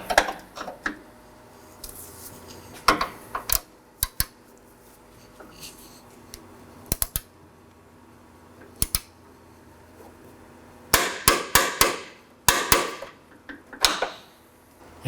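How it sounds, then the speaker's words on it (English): A wrench clicks in short, sharp bursts as it secures the rear bushing nut on a 2013-2019 Nissan Sentra front lower control arm, the close, dry ticks coming in scattered clusters over a quiet workshop background. "I'll use the wrench to secure the nut."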